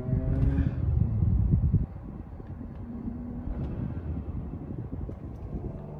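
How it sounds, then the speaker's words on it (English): A car engine revs hard with a deep, loud rumble for about two seconds, then drops back to a steadier, quieter idle drone. "Let's try and rev."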